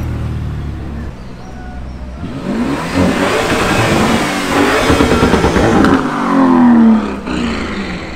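A Lamborghini Urus Mansory roars past during the Monaco Grand Prix weekend, its engine revving hard as it builds from a quieter start into a loud, sustained pass before easing off near the end.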